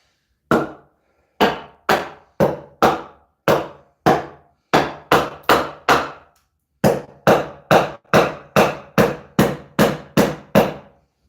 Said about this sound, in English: I'll have to pound this in with my hammer